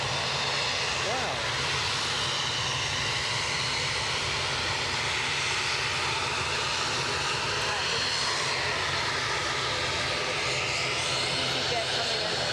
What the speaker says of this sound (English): EasyJet coming in.